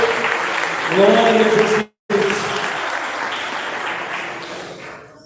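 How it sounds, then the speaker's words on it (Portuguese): A church congregation applauds in a steady, dense clatter of clapping that drops out for a moment and then resumes, while a voice calls out in praise over the hands. "Então vamos aplaudindo, aleluia!"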